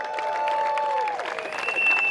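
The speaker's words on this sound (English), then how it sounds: "Can I get one final round of applause for the Richmond Major?" An outdoor crowd at the Spikeball Richmond Major 2023 tournament claps and cheers in a short, continuous burst, with a thin whistle-like tone riding above the applause.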